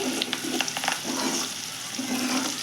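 Eggs frying in oil with onion-chili spice, a loud continuous close sizzle with a few crackling pops and light stirring scrapes.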